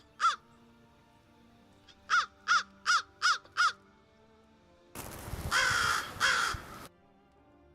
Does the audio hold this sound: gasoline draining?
no